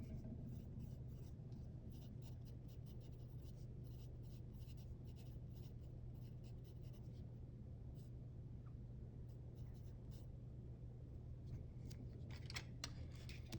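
A pencil scratches across paper as a ray is drawn, a soft continuous scraping with faint strokes over a low steady hum and no talk.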